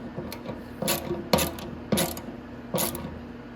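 A ratchet tightens the nut on a motorcycle fuel sending unit, a Venom X18, in several short bursts of clicking with pauses between them, close up and with no talking.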